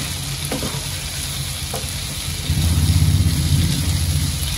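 Prawn chutney masala with tomatoes sautéing in hot oil in a Malvani kitchen, a steady close sizzle that grows louder and busier partway through as the pan is stirred.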